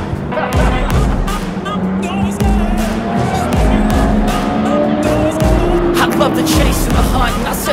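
A VE SS Commodore ute running hot laps at Sydney Motorsport Park roars loudly and close, its engine note climbing through gear changes with a rhythmic pulsing, while voices talk over it.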